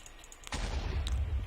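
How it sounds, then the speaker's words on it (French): A TNT block explodes in Minecraft with a texture pack, a single loud, sudden boom followed by a sustained rumbling roar. "Donc on va tester une explosion"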